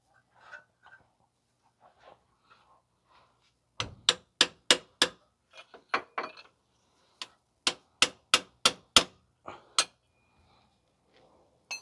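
Sharp metallic hammer strikes ring out while a CV axle is knocked free on a 2010 Subaru Outback 3.6. A few single blows come first, then quick bursts of loud, close impacts with short pauses between them.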